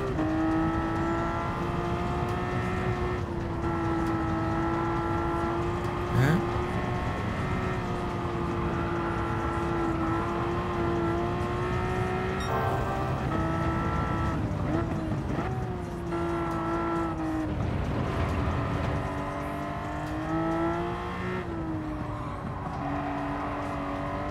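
A V12 engine in the Gran Turismo 7 racing game drones and revs steadily at high pitch, climbing and dropping with gear changes and bouncing off the limiter, loud and continuous for the whole stretch with faint talk at moments.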